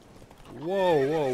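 Roach the horse in The Witcher 3 gives a loud, close neigh that rises and wavers for nearly a second, following quieter hoof clatter at the start.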